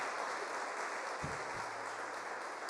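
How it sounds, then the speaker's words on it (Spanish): Audience applause at a church gathering, a faint, even patter of many hands clapping in the distance, with a brief low thump partway through. "Es un buen aplauso ahí."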